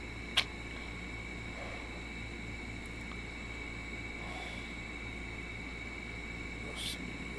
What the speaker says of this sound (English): apologize for the background noise of the air conditioner